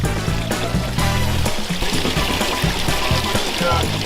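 Water spills steadily from the first waterfall of a pond, a close, continuous splashing and pouring with a few brief shifts in its flow.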